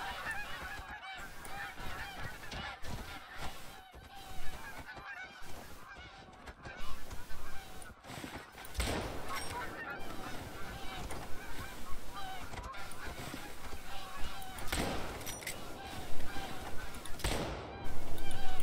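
Flock of geese honking loudly and continuously in The Hunter: Call of the Wild, Hirschfelden reserve, a dense chorus of overlapping calls with a few louder bursts near the end.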